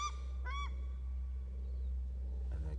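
Paradise ducks giving loud honking warning calls outdoors on a rainy campsite, a few sharp separate calls close by against steady rain and low rumble, with no talk.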